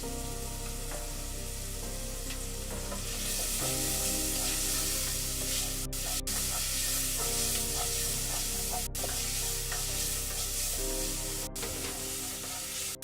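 Garlic frying in a hot pan, a steady loud sizzle and crackle that swells partway through and continues without talk, with a few sharp clicks.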